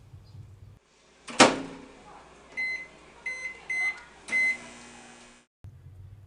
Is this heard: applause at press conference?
no